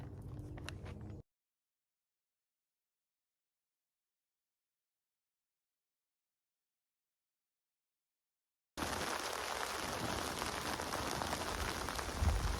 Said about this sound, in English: It's raining, but it's sunny.